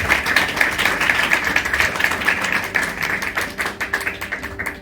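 A church congregation claps loudly and steadily in a dense, continuous burst of applause lasting throughout, with no talking over it.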